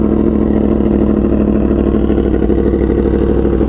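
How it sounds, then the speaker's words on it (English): A Yamaha R1M sport motorcycle engine runs loud and close, a steady rumbling idle with a rapid pulsing beat that holds evenly without revving up or down. "So, yeah, start up these bikes."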